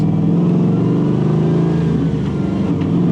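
A 1969 Chevrolet C10 pickup with an LS3 V8 and six-speed manual accelerates, its engine holding a loud, steady low drone with a slight rise in pitch throughout, close and without voices.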